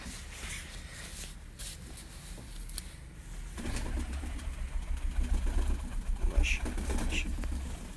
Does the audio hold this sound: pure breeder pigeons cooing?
yes